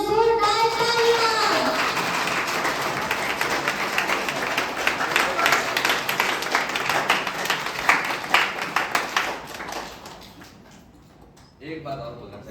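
Loud, dense applause fills a school Teacher's Day celebration at a school for the blind, sustained for about ten seconds before fading, followed by a brief voice.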